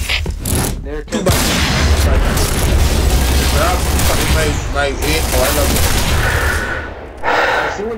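Grenade explosions in the online shooter Piercing Blow, heavy booms with a rumbling blast tail amid scattered gunfire, loud and close, with players shouting over the din.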